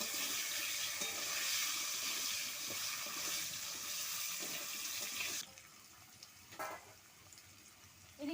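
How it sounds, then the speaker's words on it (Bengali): Potato pieces frying in fish oil in a Bengali rohu curry kitchen, a steady broadband hiss of sizzling that runs loud for about five seconds, then drops to a quieter crackle with a couple of brief bursts. "আমি এই মাছের তেলে এবার আমি আলুগুলো ভেজে নেব।"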